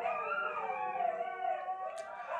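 Several dogs howl together in a sustained, wavering chorus that continues throughout, moderately loud and near, with no talking.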